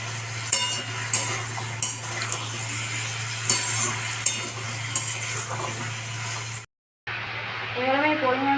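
Bottle gourd pieces go into a hot pan and are stirred, a low sizzle under repeated sharp clanks and scrapes of a utensil against the pan, close by, followed by a brief silence and a voice speaking.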